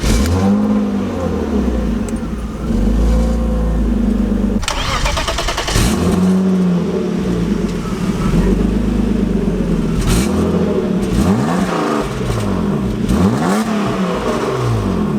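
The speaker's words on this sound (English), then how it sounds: "Go ahead and fire it up for you guys." A 1995 BMW E36 with a stock steering wheel cranks and fires, then settles into a loud, close idle broken by several sharp revs that rise and fall near the end, with no talking.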